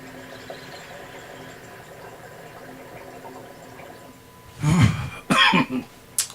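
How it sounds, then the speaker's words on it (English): Short bursts of coughing start partway through after a stretch of quiet room tone, the first a single harsh cough, followed by a couple more close by. "Sorry, I keep coughing on mic."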